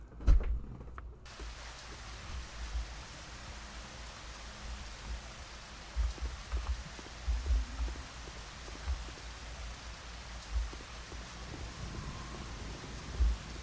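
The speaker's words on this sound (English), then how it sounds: "Why suddenly it's raining, suddenly I'm not at the factory anymore." Rain falling in the video game Hunt Down The Freeman, a steady soft hiss with occasional drop taps and low thumps, fairly faint and continuous.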